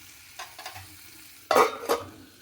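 Fenugreek leaves being stirred in a pan for an aloo methi dish, with soft scraping of a spatula and two brief louder sizzling bursts over a quiet background.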